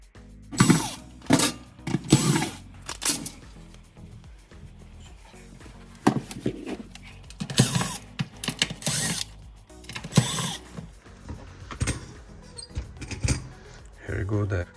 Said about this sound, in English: So I will open the front screws.